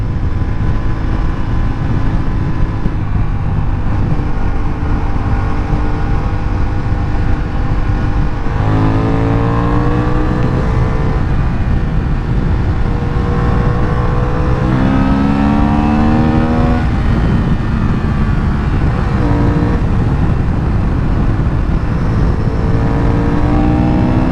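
A new Honda Hornet motorcycle revs hard while ridden, its loud close engine drone climbing through repeated rising sweeps with shifts between gears, under steady wind rush and no voices.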